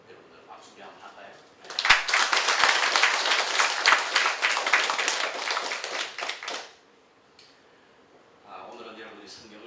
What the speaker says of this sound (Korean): 여러분들 박수 한번 할까요?